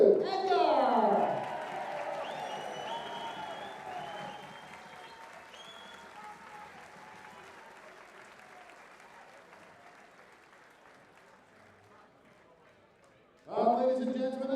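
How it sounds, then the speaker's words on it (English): Applause from a crowd at the WDF 2024 World Darts Championship, loud at the start and thinning into a long fading patter, then a fresh burst of clapping at the end, with an announcer's voice over it. "a massive round of applause for Matthew Edgar"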